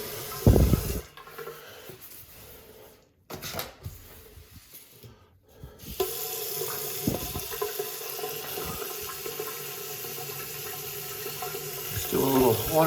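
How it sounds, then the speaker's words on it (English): Water from a faucet runs steadily into a bathroom basin during plumbing work on a newly made flange tailpiece, a continuous filling rush that starts after brief clatter and grows slightly louder toward the end. "Fill up the basin."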